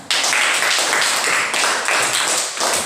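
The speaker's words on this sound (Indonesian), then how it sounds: "Iya, tepuk tangan." A class of students claps together at the end of a lesson on the human digestive system, a loud, close burst of continuous hand clapping.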